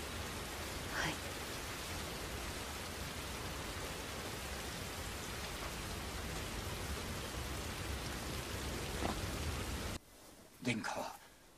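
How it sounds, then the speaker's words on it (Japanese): A heavy spring storm pours down as a dense, steady hiss of rain that fills the scene without pause, then cuts off abruptly near the end, leaving a quiet room with faint movement. "大変な嵐ですこと。"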